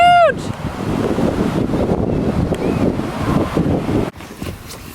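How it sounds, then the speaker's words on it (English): Big ocean waves roll in at a beach while strong wind buffets the microphone in a loud, steady roar that partly masks the surf. "Look how big those waves are."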